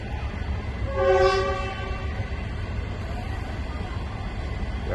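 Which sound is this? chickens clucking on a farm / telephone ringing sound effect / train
train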